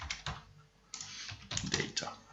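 Quiet, close bursts of typing on a computer keyboard, several quick clusters of key clicks separated by brief pauses.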